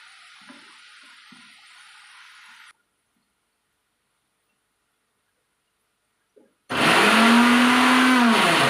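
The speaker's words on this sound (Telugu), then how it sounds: "మిక్సీ కొట్టుకుంటానండి" A kitchen mixer grinder grinds chutney. After near silence, it starts abruptly and roars loud and close with a steady whining motor tone for the last two seconds.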